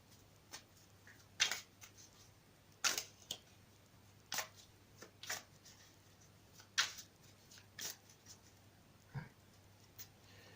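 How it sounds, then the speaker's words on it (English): Quiet, intermittent crisp riffles and flicks of tarot cards being shuffled by hand, coming in short irregular bursts over a faint steady hum. "I'll shuffle them again on camera for you"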